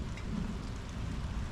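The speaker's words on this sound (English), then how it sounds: "Sorry about the thunder." Steady rain pours during a thunderstorm outdoors beside an International truck, a dense even hiss with low rumbling underneath that may be distant thunder, continuous and fairly loud with no voices.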